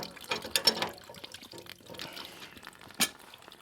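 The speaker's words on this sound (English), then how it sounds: "Let's just give that a minute, just to finish draining a bit more." Water draining from a household radiator during a plumbing job, soft intermittent trickles and drips up close, with a louder splash near the end and quiet gaps between.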